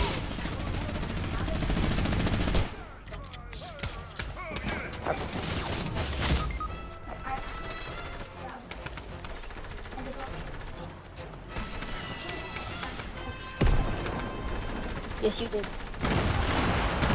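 A minigun fires in Fortnite, a dense sustained roar of rapid gunfire punctuated by crashes and mechanical clatter, with a voice speaking briefly over the din.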